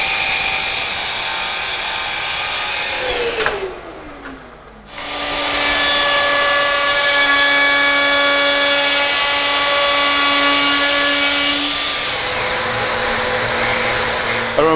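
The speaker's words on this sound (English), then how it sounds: "I couldn't have done it without that sander. It made all the difference." A power sander works a wooden board, a loud, steady, close motor whine that winds down and cuts out for about a second midway, then spins back up and runs steadily to the end.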